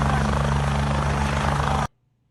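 Loud, steady helicopter rotor and engine roar from a played video recording of helicopter NN313, continuous for nearly two seconds before cutting off abruptly into near silence.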